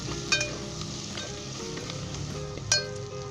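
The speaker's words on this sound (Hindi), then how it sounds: "और एक दफ़े से मिक्स कर लेंगे अच्छे तरीके से" Chicken sizzles in a hot pot with salt, chicken powder, garam masala and bay leaves while being stirred for Lahori carrot chicken pulao, a steady frying hiss with a couple of sharp utensil clinks, close up and with no talk.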